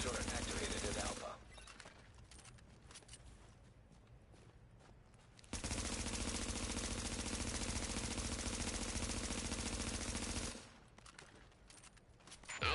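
An automated turret fires in Tom Clancy's The Division during a Last Stand match, with loud, dense bursts of rapid shots in two long sustained stretches and a quieter gap of scattered noise between them.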